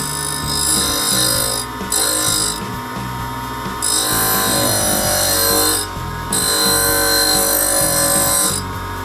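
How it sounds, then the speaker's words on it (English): A diamond wheel grinder grinding a tungsten carbide tool tip, a steady high whine with a droning hum, cutting in and out in several long passes, close and loud. "Let's put some black felt tip on the end so you can see where I'm grinding. It's a diamond wheel."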